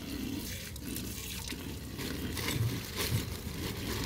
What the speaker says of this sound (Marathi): गरम पाणी येत आहे